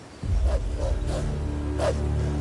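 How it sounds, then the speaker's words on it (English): Hungry wolves in the video game Black Desert give a short run of low growling barks and yips, moderately loud over a steady game background hum. "Do you see those hungry wolves stalking about in the grass?"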